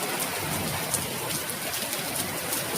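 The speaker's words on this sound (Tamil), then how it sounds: "மழை பெரிய மழை வந்துச்சு." Heavy monsoon-season rain pours down steadily in the evening, a dense, even hiss of drops hitting surfaces with occasional sharper splashes.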